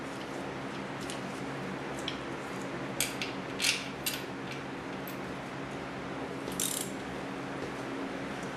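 A ratchet clicks in a few short bursts while starter bolts are tightened on a Nissan SR20DET engine swap into a 240SX, the clicks crisp and close over a steady low shop hum, with quiet gaps between bursts.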